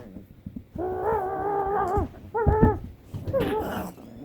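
A young puppy makes a long, drawn-out whimpering whine followed by shorter yelps and a low growl, close and fairly loud, indoors with no one speaking during it.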